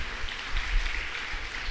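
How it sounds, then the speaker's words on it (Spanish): A church congregation applauding together, a dense, steady patter of clapping hands that stays fairly soft and even across the short stretch. "Démosle un fuerte aplauso al Señor en esta mañana"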